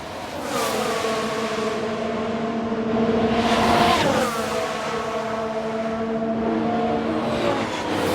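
Ferrari race cars in the F1 Manager 22 racing game, set in a 1992 season, roar past with high revving engine whines that rise, sweep and shift pitch, loud and continuous with no voices.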